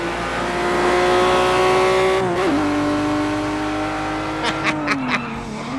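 A BMW 1M Coupe engine in a racing video game holds a steady, loud drone, dropping in pitch after a shift around the midpoint, then settling into a constant cruise with a few short clicks toward the end; no talking.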